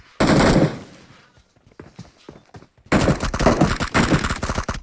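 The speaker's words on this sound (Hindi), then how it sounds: "आयुष भाई पे गोली चलते हुए" Automatic gunfire in the battle royale game BGMI, with a loud close burst at the start, scattered single shots, then a long sustained volley of rapid fire.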